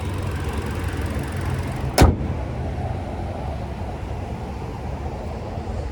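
Traffic on a nearby highway, heard from inside a 2024 Hyundai Kona SEL, makes a steady broadband road roar, with one vehicle whooshing closely past at the two-second mark.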